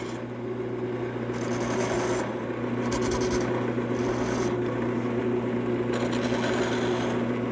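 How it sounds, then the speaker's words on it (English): A small gouge cuts detail into a wooden table leg spinning on a lathe, a steady scraping hum with a constant motor drone, loud and close with brief bursts of brighter cutting noise. "Now a little detail work with my small gouge."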